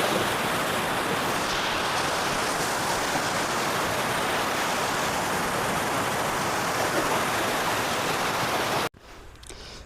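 Heavy water released through a large dam in Maharashtra rushes past a small old British-era bridge, a loud, steady broadband roar that fills the scene and cuts off abruptly near the end.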